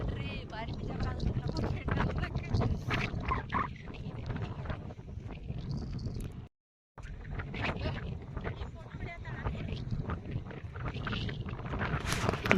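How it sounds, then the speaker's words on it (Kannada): Strong wind buffets the microphone outdoors on a walk during a Sai Baba temple fair, a loud, rough rushing that continues almost throughout with only a short break, while people talk over it. "ಗಾಳಿ ಅಂತೂ ಸಿಕ್ಕಾಪಟ್ಟಿ ಬಿಟ್ಟೈತ್ರಿ."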